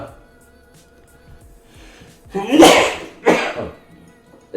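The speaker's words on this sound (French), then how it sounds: "j'ai eu un petit éternuement" A single sneeze bursts out close by, followed by a short sharp exhale, in an otherwise quiet room.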